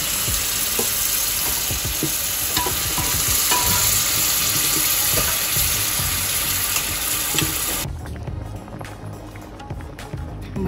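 Mutton stirs and fries in a pan for a tiffin dish, a loud, steady close sizzle with repeated scraping strokes from the spatula, then dropping to quieter frying near the end.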